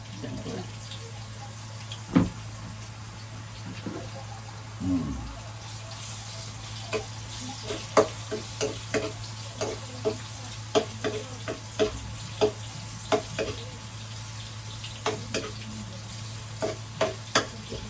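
Ginger frying in reused deep-frying pork oil for chicken adobo, a steady sizzle underneath with repeated sharp stirring clicks and scrapes of a utensil in the pan, close by; a low steady hum sits beneath throughout.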